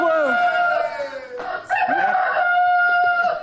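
A rooster crows loudly and close by in a long harmonic call with a short break, then carries on, while people talk excitedly around it.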